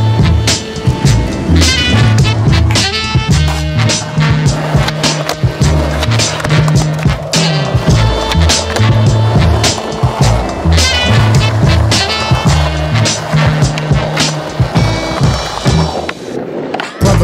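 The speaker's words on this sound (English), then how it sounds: "hoje a gente vai fazer um test drive dos novos modelos de shape da Red" Skateboarding on new Red skateboard decks: wheels roll steadily while sharp pops, clacks and landings repeat in irregular rhythm, loud and close, over a music track.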